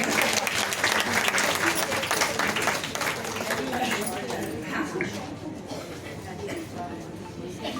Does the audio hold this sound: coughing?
no